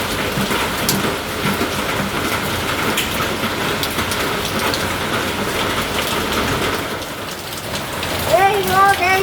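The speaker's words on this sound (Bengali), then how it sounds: "বাইরে কি বৃষ্টি হচ্ছে" Heavy rain pours outside as a loud, dense, steady hiss and patter that keeps up the whole time, with a voice briefly heard near the end.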